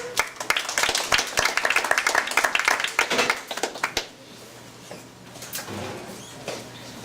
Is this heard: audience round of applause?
yes